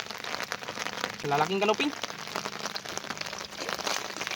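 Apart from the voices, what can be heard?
rain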